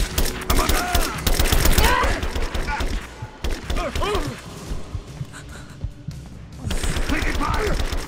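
Rapid gunfire crackles through a Rise of the Tomb Raider video game firefight in repeated bursts, with shouting voices over the shots and a brief lull before the shooting swells again.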